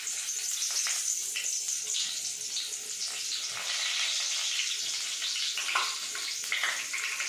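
Curry leaves crackle and sizzle in hot oil while an egg kurma is being cooked, a steady close-up frying hiss with scattered pops and no talking.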